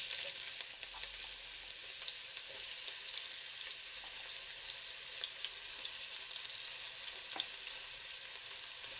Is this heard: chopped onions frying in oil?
yes